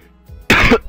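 A single harsh cough from someone who is sick, close and loud, preceded by a brief throaty sound.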